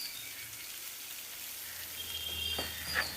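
Crushed chili powder sizzling as it fries with sautéed onions in oil for Tamil dal sambar, a soft steady crackle that swells slightly toward the end with a few sharper pops.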